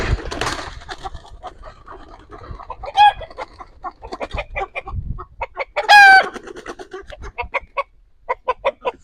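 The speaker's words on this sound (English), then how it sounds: "Freaking the rooster out." A rooster on a meat-bird farm clucks through most of the stretch and lets out two short crows, close and fairly loud, with quiet gaps between the bursts.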